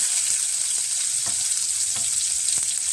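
Onions fry in hot oil with cumin and mustard seeds for a brinjal gojju, a loud, close, continuous sizzle with steady crackling and a few faint stirring knocks.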